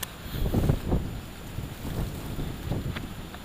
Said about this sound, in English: the wind is hitting this big style